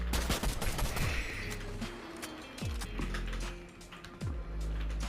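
Shotgun blasts in a Fortnite 1v1 match, several sharp booming shots spaced a second or so apart, mixed with mechanical reload clicks and game effects, loud and close with no talking.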